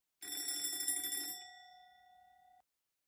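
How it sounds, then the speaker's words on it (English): An alarm clock rings with a bright, rapid metallic trill for about a second, then fades into a single sustained tone that hangs briefly before cutting off, close and alone with no voices. "I set the alarm clock for 7 a.m."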